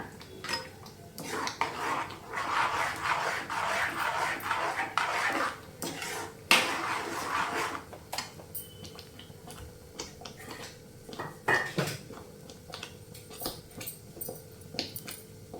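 Semolina upma being stirred in a pan with a spoon, giving steady scraping and clinking of metal against the pan over about fifteen seconds, busier at first and then sparser, with no talking.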